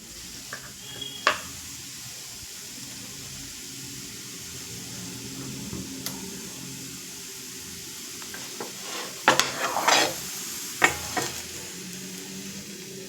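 Sliced potatoes fry in a home-kitchen pan with a steady, close sizzle, while a spatula stirs and scrapes in sporadic clattering bursts, busiest near the end.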